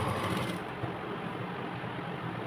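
A sewing machine stitches the sleeve of a baby frock with a rapid, continuous mechanical chatter, close and steady for the whole short stretch.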